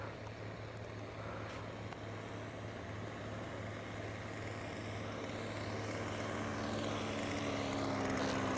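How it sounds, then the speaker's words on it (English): Small RC model airplane engine drones steadily in flight at a distance, a continuous buzzing hum that swells slightly louder toward the end, with no talking over it. "We got the engine running again."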